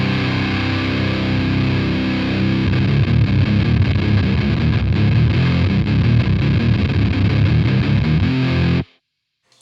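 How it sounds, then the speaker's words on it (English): Electric guitar played through a Biyang DS12 distortion pedal in bright mode with the distortion knob turned, giving a loud, heavily saturated chord that sustains and then cuts off abruptly near the end. "Let's muck around with the distortion knob a little bit and see if that makes a difference."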